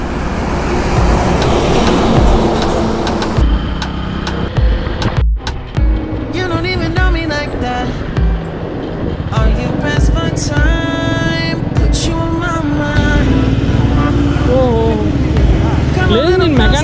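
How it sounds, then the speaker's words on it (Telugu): Heavy road traffic in Vizag rumbles past during a motorcycle ride, with passing engines, horns and wind noise close around the rider, partly under talking. "ట్రాఫిక్ అయితే బీభత్సంగా ఉంది ఈ రోడ్లో."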